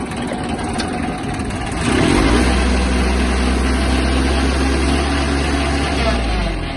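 Engine of a Kubota XB-1 Japanese mini tractor idles, then is throttled up after about two seconds into a louder, steady low-pitched running roar. It sounds close by.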